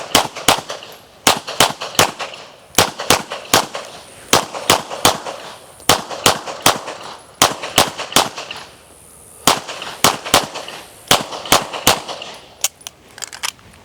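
Pistol shots fired during USPSA practice, sharp and loud, coming in fast strings and paired bursts with short gaps between them, the cadence picking up across the run with no talking.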